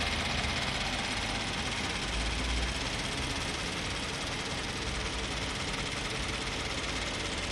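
A Toyota 86 with manual transmission, in good running condition, idles with a steady, even engine drone and faint mechanical ticking, loud and close, with no talking.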